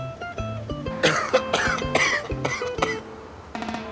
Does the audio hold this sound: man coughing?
yes